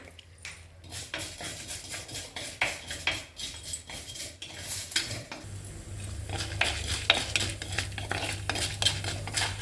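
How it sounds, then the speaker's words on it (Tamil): Urad dal and chana dal frying together in a pan for a green turkey berry chutney, with a spatula stirring and scraping steadily over a soft, continuous sizzle, close and fairly loud. "அதுவே உளுத்தம்பருப்பையும் போட்டுருவோம் ரெண்டு சவக்கா வரக்கட்டும்"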